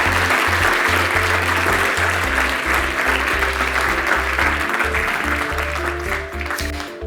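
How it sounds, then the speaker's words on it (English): Loud, dense audience applause at a sustainability symposium, continuous clapping throughout with a low tonal hum or music underneath, easing off slightly at the end. "please join me giving a huge round of applause"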